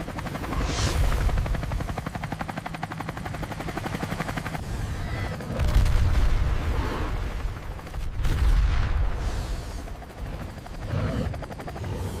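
A military-style helicopter descending to land, its rotor thudding steadily and loud throughout with swelling engine whine, close by, with bursts of gunfire-like cracks mixed in.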